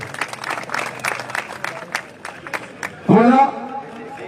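Spectators applauding as former national team players are welcomed at a local football match, scattered clapping under a commentator's voice, ending in a loud shout.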